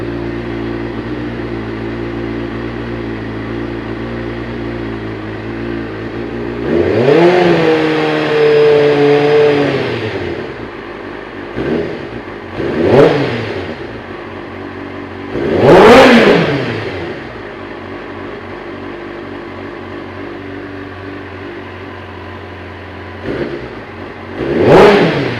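A 2007 Kawasaki ZZR600 motorcycle engine idling close by after a spark plug change, then revving up several times in short bursts that rise and fall back to a steady idle.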